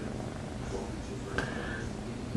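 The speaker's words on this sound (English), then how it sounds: "that's my pretty little kitty" A pet cat purring steadily while napping, a soft continuous rumbling close by, with a person talking quietly over it.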